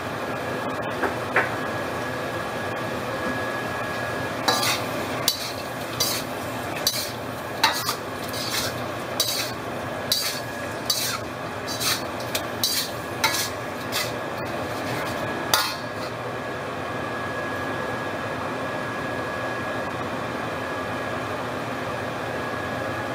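Chopped ingredients for braised pork with black beans tossed into a hot wok on a home stove, a steady sizzle under a run of quick metallic spatula scrapes and clinks against the pan.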